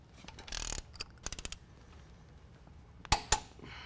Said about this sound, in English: now we're going to tighten down our passenger side bolt